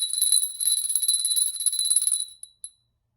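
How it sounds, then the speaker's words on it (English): A small hand bell rung hard and fast, a rapid, bright, continuous jangle that breaks off into two last isolated dings before falling silent, with no voices. "He would ring the bell hard"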